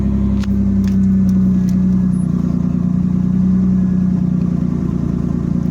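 A 1989 Chevy Camaro engine fires up and settles into a steady, loud idle close by, a strong low hum running continuously with no one talking.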